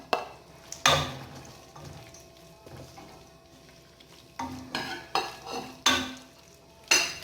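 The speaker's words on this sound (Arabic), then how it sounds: "دابا غادي نضيف الدجاج اللي فردت، نديرو على المريقه باش يتشحر معاها" Chicken pieces stirred into a pot of onion sauce and sautéing, with repeated scraping and clattering of a utensil against the pot over a soft sizzle, the stirring strokes arriving in bursts with quieter pauses between them.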